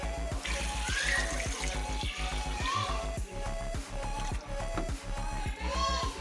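Water poured into a pressure cooker, a steady close splashing and gurgling stream running for several seconds over a constant low rhythmic hum.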